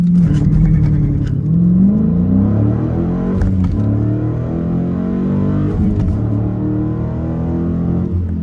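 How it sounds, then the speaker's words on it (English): A Dodge Challenger SRT 392 with a manual gearbox revs hard and accelerates through the gears, its loud, close engine note climbing in pitch and then dropping at each shift. "First gear, I'm gonna put the RPMs higher this time, and here we go."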